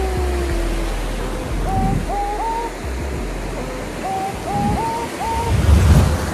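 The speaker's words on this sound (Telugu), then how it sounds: "పెద్ద పెద్ద అలలు వస్తాయి మన ప్రాబ్లం అయింది" Big ocean waves roll onto Arambol beach in North Goa, a broad surging wash that builds toward the end, with several short rising tonal calls heard over the surf.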